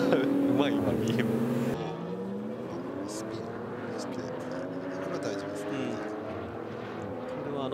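Race cars at the Nürburgring 24-hour race, with a BMW among them, roar past in overlapping engine notes that rise and fall as they overtake, loud and continuous under commentary.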